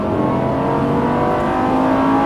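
A Lamborghini LP570 Superleggera accelerates at full throttle on a racing circuit, its engine roaring loud and close, with a steady rising tone and no voices over it.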